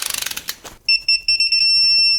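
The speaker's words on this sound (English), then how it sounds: "We're gonna torque them at 90 Newton meter." A torque wrench tightens crankshaft main bolts on a Range Rover 3.0 TDV6 diesel, giving a quick run of ratcheting clicks followed by sharp, repeated high electronic beeps from the wrench reaching torque.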